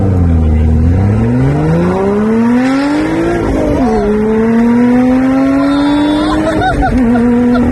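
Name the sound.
Lotus Evora car accelerating hard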